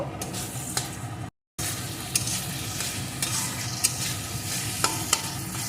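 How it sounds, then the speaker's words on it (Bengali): Kasuri methi being sautéed and stirred into a frying mixture in a pan, a continuous close sizzle with scraping stir strokes and light utensil ticks, briefly cut to silence. "এখন এর ভিতরে দিয়ে দেবো এক চামচ মতন চা চামচের কসুরি মেথি এখন এটাকেও একটু এর সাথে কষিয়ে নেব"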